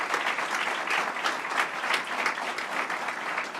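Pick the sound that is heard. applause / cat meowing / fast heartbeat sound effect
applause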